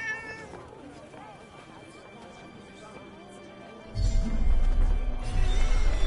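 A cat meows in the fantasy video game Forspoken, with a few soft calls under game music and ambience; a louder rumbling crash takes over midway.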